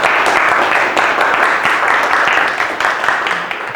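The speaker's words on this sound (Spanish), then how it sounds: "hay que recibirlo con un aplauso" A crowd applauding, dense continuous clapping from many hands that holds steady and then begins to thin toward the end.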